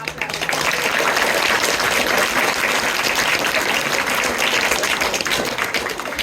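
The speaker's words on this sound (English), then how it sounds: "Big clap." Loud, sustained applause from an audience at a school awards ceremony, dense clapping that fills the whole stretch without a break.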